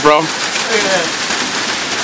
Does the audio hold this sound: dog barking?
no